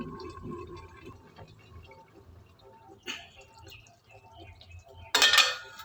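A metal lid drops onto a pan of prawn and green jackfruit curry with a sharp, ringing clatter. A lighter clink and faint kitchen rattles come before it in an otherwise quiet room.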